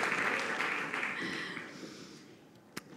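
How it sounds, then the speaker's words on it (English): Steady crowd applause at a film award ceremony, dense and moderately loud at first, then gradually tapering off, with one sharp tap near the end. "A big round of applause."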